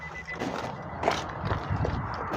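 Soft electronic key-not-detected warning beeps sound from a Nissan Leaf Tekna electric car amid faint cabin noise and rustling, close by and fairly quiet.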